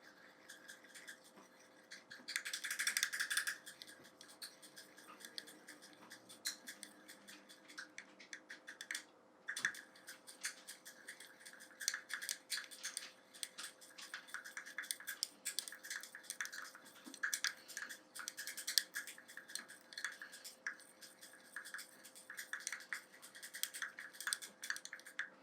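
Custom BB cream being stirred by hand makes soft, close scraping and squishing sounds in an uneven, steady rhythm, quiet and alone with no talking.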